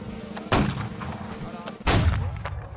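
Two loud broadband gunshot blasts, roughly a second and a half apart, crack out in a snowy hillside battle in an online war game, each leaving a short rumbling tail over faint background noise.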